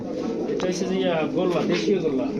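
Racer, fancy and Giribaz pigeons coo softly in low, warbling phrases, close by on a pigeon farm, with people talking over them.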